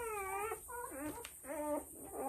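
Alabai and Belgian Malinois cross puppies whimper in a series of high, thin, wavering whines, soft and close, with short pauses between cries.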